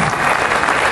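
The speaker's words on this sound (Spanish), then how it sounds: "Regálenme un aplauso para la bienvenida a la licenciada doctora Rosalía Baúl Sánchez" An audience applauds to welcome a speaker at a public event in Puebla, dense, loud clapping from a crowd filling the whole moment without pause.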